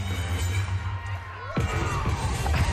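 A crowd cheers and shouts in an arena during a UCLA collegiate gymnastics floor routine, with a swell of noise rising midway and continuing under commentary voices.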